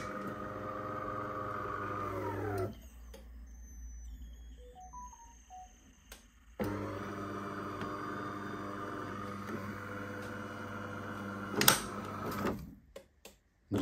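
A De'Longhi bean-to-cup coffee machine grinds beans with a loud, steady whirring buzz that cuts off and then starts again after a quiet gap with a few beeps, then stops with a clunk.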